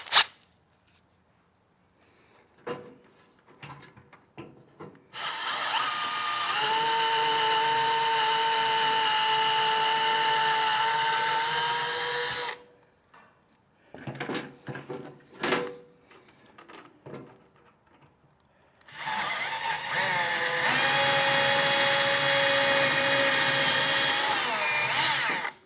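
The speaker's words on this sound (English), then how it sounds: "drill through wood." A power drill with a 5/32 bit bores through wooden shelves in two long, loud, steady whining bursts, separated by quieter handling clatter and short drill starts.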